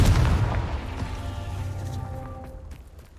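A Confringo spell blast in the Hogwarts Legacy video game lands as a deep, booming explosion that rolls out and slowly fades, heard alone with no talk.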